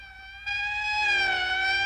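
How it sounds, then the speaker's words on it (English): A wailing siren rises and holds, loud and fairly near, its tone sliding slowly with no other sounds around it. "That's the 5th siren in the last hour."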